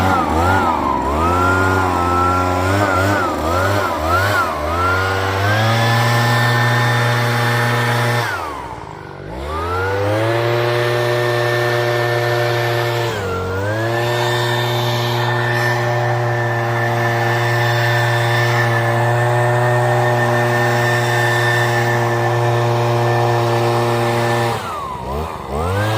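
A PROYAMA gas-powered backpack sprayer and mister engine running close by, a steady high buzzing drone with several quick throttle blips and revs that dip and climb again, loud and alone.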